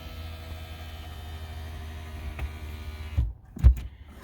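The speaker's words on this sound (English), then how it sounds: "Now the seat's moving forward." Electric power seat motor in a Chevrolet Silverado whirring steadily as the seat travels forward, a low close hum that stops abruptly with a couple of soft clunks near the end.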